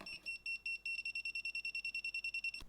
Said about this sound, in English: touching neutral stays green and just beeps, while touching live gives a red high alert